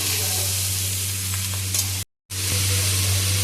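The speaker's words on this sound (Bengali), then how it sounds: "সবজিগুলো তাড়াতাড়ি ভাজা হয়ে যাওয়ার জন্য আমি এখানে দিয়ে দিয়েছি অল্প একটু নুন" Vegetables, including carrots with a little salt, sizzle steadily in a hot pan for egg chow mein, with occasional stirring scrapes and a brief dropout in the middle.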